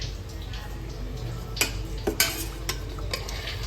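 Chutney ingredients, including dried red chillies and tamarind, sauté lightly in a little oil with a soft sizzle, while a spoon scrapes and taps the pan a few times at irregular moments.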